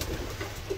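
Pigeons in a backyard loft with an open entrance give low, soft cooing calls, a few gentle rolling coos over a quiet room hum, close by, without speech.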